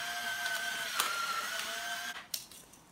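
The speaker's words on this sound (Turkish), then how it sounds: "1 çay kaşığı kadar da karabiber çekiyorum bu şekilde" A pepper mill grinds black peppercorns over a stuffing filling for meat-stuffed chard rolls, a steady dry crackling rasp lasting several seconds, close and fairly loud, ending with a couple of brief clicks.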